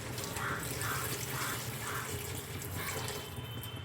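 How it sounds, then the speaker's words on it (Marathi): Hot water poured into a pot of village goat mutton curry, a continuous close gushing and splashing of liquid with a few gentle surges, no talking. "तर आता आपण हे जे गरम पाणी केलेलं आहे ते टाकून घेणार आहे मी"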